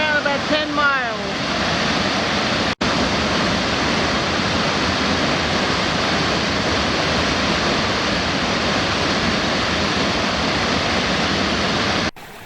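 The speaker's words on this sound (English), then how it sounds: "This is Seneca Mills Falls, right outside our campground" Seneca Mills Falls near Keuka Lake pours in a steady, loud, broadband roar of rushing water, close and continuous with no break, and no voices over it.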